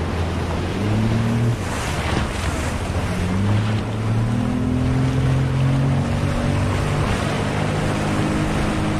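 Panga boat crossing ocean waves off Quepos, Costa Rica, its engine droning steadily through rushing water and gusting wind noise, with no voices.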